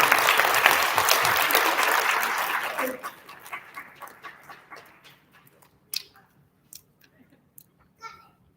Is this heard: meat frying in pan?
no